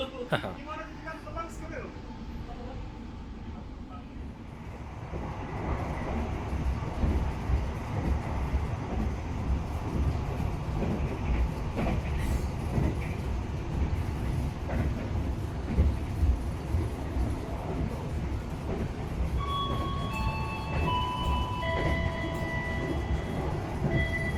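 Interior rumble of the KA Gumarang economy train cruising at 100 km/h, a steady low roar with rhythmic wheel clatter and faint squeals, rising after a quieter start; a voice talks over it.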